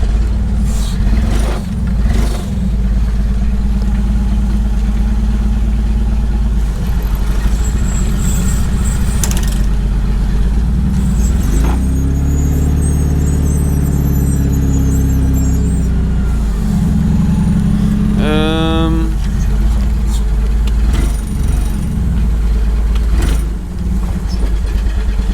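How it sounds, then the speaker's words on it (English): A forklift engine idles with a deep, lumpy, Harley-like rumble that holds steady throughout, with a few brief rattles and clunks and a short rising whine near the end. "my brother's forklift has the coolest sound to it ever. Sounds like I'm driving a Harley"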